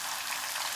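Chana dal sizzling in hot groundnut oil in a kadai, a steady close crackle of frying with no voices.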